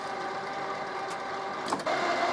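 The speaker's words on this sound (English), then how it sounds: "your printer should start making noises like that" A Canon Pixma TS5350 inkjet printer runs its printhead cleaning cycle, giving a continuous mechanical whirring hum with tonal motor whine and a couple of brief clicks and shifts, close and steady.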